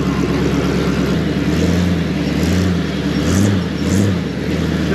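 A Chevy Mule off-road build with a 350 engine revs hard while pulling a wheelie over rocks, a loud, steady V8 roar close by with a few rising throttle swells, no talking.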